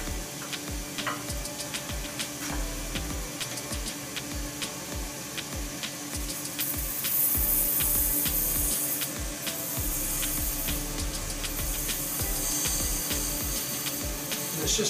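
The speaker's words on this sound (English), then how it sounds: "steady push in with the skew, just to clean up the side of that hole" A skew chisel pushed slowly into wood on a lathe to clean the side of a bored hole while making a razor shaving brush, a steady rubbing scrape with repeated light ticks and a hum underneath.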